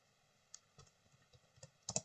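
Computer keyboard keys tapped one at a time while entering a MySQL command, sparse irregular clicks that build to a final quick double press, close and quiet.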